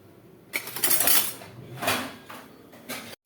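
Metal cookware clinking and scraping while an egg omelette is made in an oiled pan, a few close clattering knocks and a sliding scrape, loud and without speech.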